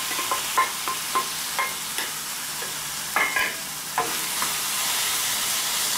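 Meat sizzling as it's added to a hot pan for quinoa tamal, a steady fry with short bursts of stirring and scraping spoon clatter, no talking.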